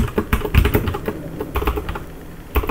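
Computer keyboard keys clatter in irregular bursts of quick taps as code is edited, close by, with short pauses between runs of keystrokes and no speech.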